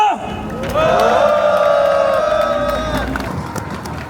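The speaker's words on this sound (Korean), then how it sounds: "동지들의 힘찬 함성과 박수로 시작할 수 있도록" A labor union rally crowd gathered on a major Seoul boulevard lets out a loud, sustained roar of shouting and cheering mixed with clapping, swelling early and then tapering off.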